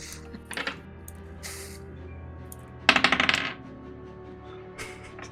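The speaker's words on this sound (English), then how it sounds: "I heard 2 dice roll." Two dice clatter and bounce across a table at a tabletop roleplaying session, a quick run of rattling hits that fades out, with a few small clicks nearby.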